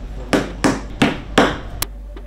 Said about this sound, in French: J'ai juste frappé deux clous.